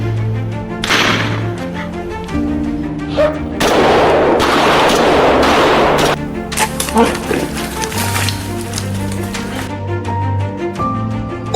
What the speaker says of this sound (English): So I took the shot.